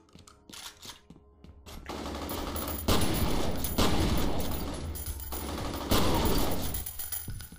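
Rapid automatic gunfire from the video game F.E.A.R. Perseus Mandate, sustained bursts of loud crackling shots with a few short pauses, building from sparse pops into dense fusillades.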